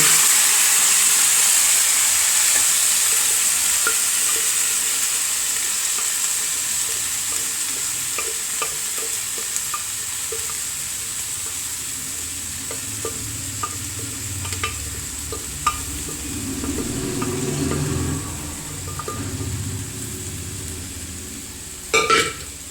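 Upma with lentils being stirred in a pan, a steady sizzling hiss throughout with soft scraping strokes building toward the end and a couple of sharp knocks near the close; no one talks.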